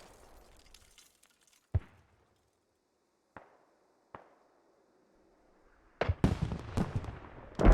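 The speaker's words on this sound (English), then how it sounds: "the Brits are camping this hab and hitting with mortars" Mortar rounds strike in a Squad video game fight, a few isolated sharp cracks spaced over quiet seconds, then a dense burst of heavy impacts and crackling debris near the end.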